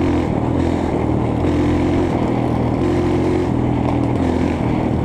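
A trail motorcycle accelerates in a group ride of about fifteen dirt bikes on a dark trail, its engine a loud, steady drone whose pitch rises and falls with the throttle.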